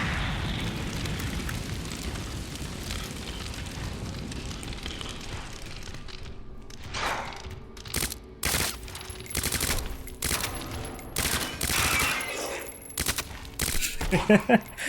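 SMG gunfire in Resident Evil 2 rattles out in short bursts and single shots after a dense stretch of roaring noise, the shots sharp, close and loud with brief gaps between them.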